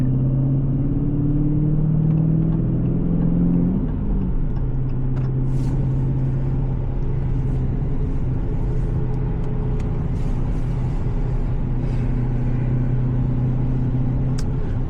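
A 2022 Dodge Challenger Scat Pack's engine rumbles low and steady from inside the cabin while driving in the rain, with faint road noise and a slight shift in pitch partway through.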